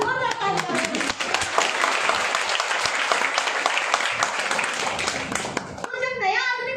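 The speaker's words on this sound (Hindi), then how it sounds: "या तो नए मेहमान भी तालियां बजाते हैं, एक बार जोरदार तालियां।" Dense, sustained applause fills a seminar hall with many hands clapping loudly and steadily, and a voice speaks as the clapping ends.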